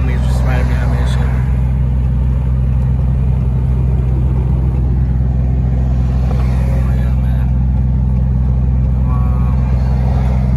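A pickup truck drives along a road with a steady loud low engine drone and road rumble heard from inside the cab, while people talk over it.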